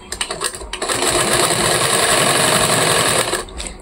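An electric sewing machine, short of oil and not used daily, runs roughly: a few knocking stutters, then a loud, steady mechanical whir for several seconds before it winds down, close by with no talk.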